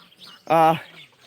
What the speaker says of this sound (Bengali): দেখতে পাচ্ছেন গাইস এখানে কিন্তু দেশি মুরগি কিছু দেশি মুরগি আছে